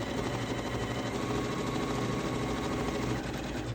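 A Janome S9 embroidery machine stitching a one-colour design, a steady, fast mechanical whirring and rapid needle clatter that runs without pause, close and even in level.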